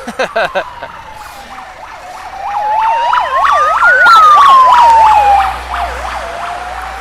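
A loud wailing ambulance siren sweeps up and down as it approaches and passes close by in Bundaberg, Australia, its pitch dropping as it moves away.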